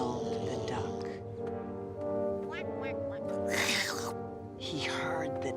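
Orchestral woodwind phrases imitate a duck's quacking, a reedy nasal melody with bursts of breathy notes, in a Peter and the Wolf performance.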